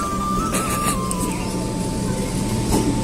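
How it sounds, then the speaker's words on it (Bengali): A Dignagar train pulls into a station with a loud, steady rumble and a whining tone that slides slightly lower, all close by. "আমাদের ট্রেন চলে এসছে গাইজ।"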